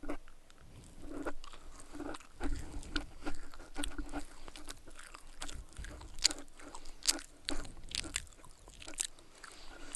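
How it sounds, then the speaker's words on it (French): An apricot-flavoured biscuit tartlet, a barquette, is bitten and chewed close to the mic, giving dry, crisp crunches and steady munching in a quiet room. "c'est une barquette. Pas une barquette à mettre dans l'eau. Pardon. Goûtons voir."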